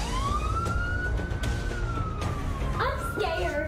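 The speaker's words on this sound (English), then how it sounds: "It's the police. It's not a fire truck." A police car siren wails in a long rising and falling sweep, moderately distant, then switches to faster yelping tones near the end over steady background rumble.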